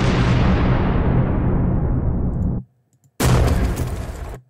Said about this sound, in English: I downloaded some wild, like, explosion sounds.